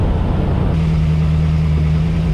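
A 1952 Mercury with a supercharged engine drives down the road, its loud, steady engine drone holding one continuous low note.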